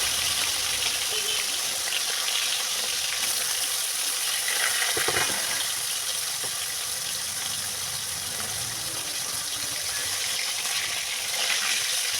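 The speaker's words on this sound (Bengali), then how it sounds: "এখন আছে একটা কড়াই চাপিয়ে মাছগুলো ভেজে নেব" Fish sizzles and spits in a hot wok (kadai) for a Bengali fish curry, a dense, steady frying hiss running throughout at close range with a brief clatter midway.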